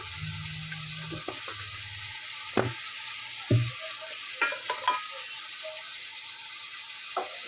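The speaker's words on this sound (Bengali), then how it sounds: "ভালো করে এটা কষিয়ে নেবো" Spice masala sautés in a pan with a steady frying hiss, while a utensil stirs and scrapes it, making several distinct knocks and scrapes against the pan; close and fairly quiet, with no talking.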